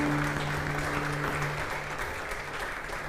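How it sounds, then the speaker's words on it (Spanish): A church congregation applauds during a Sunday Pentecost service, a steady, dense wash of clapping lasting throughout, with a held musical tone underneath at the start. "Un aplauso fuerte al Señor esta mañana."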